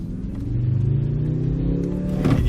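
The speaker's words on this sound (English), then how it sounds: "We'll put on the engine. Okay, let's have it. This 4-cylinder." A 2023 Mercedes-AMG C63 S with a four-cylinder hybrid engine idles with a low, steady hum, then rises into a short rev near the end. The sound is close by and nobody speaks.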